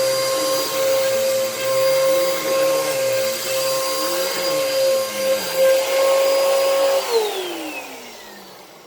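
A clogged upright vacuum cleaner runs with a loud, steady motor whine for about seven seconds, then powers down, its pitch sliding lower as it winds to a stop.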